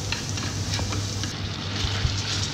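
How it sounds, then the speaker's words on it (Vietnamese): Chicken pieces fry in a pan with garlic and shallots, giving a steady, dense sizzle with occasional crackles and light stirring noises throughout, with no talking. "Nó thơm lên rồi này mình mới cho cái gà vào mình chiên sơ nó."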